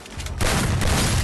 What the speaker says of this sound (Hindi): इसको हम शॉटगन से मारने का ट्राई करते हैं